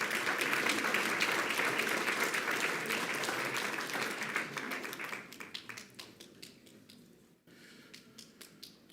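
A room at a school board meeting applauds as a group of students enters. Loud, sustained clapping from many people gradually thins out into scattered individual claps near the end.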